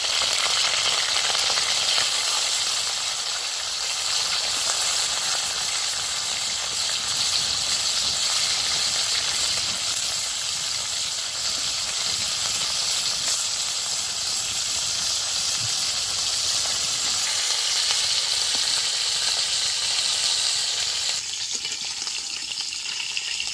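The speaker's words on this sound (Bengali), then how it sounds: "ইলিশ মাছের মুড়োগুলো সুন্দর করে ভেজে নিয়েছি" Hilsa fish heads fry in hot oil, a loud, dense, continuous sizzle and hiss close by that holds steady and drops slightly near the end.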